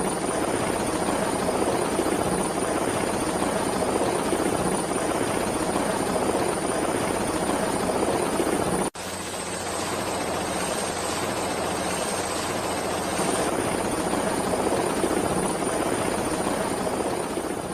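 In-game helicopter arriving, its rotor thumping in a loud, continuous wash over a steady engine whine, with a brief cut midway before the drone resumes.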